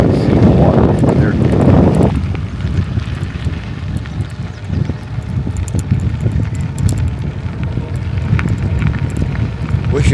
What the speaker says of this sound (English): Wish it wasn't so windy.